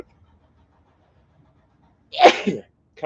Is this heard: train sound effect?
no